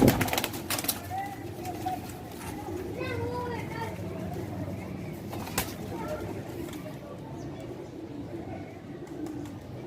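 Pigeons coo softly in the background, several low rolling calls, while people talk and children's voices carry nearby.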